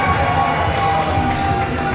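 A dense, steady roar from a wrestling crowd at an indoor show in Nashville, cheering and shouting continuously at a constant, loud level with no clear breaks.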